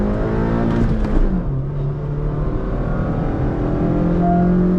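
A Hyundai Verna 1.5L diesel accelerates hard in a drag race against a Honda City 1.5L petrol, its engine droning loud and steady from inside the cabin, the pitch climbing and dropping as it shifts gears.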